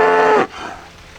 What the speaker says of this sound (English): There's the cow out there